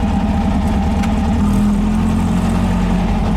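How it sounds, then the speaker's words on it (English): A 1915cc VW Manx dune buggy engine lugs in second gear, giving a loud, close, steady low rumble with a droning tone and slight unevenness, with no talk over it. "I'm just lugging it in second gear right now."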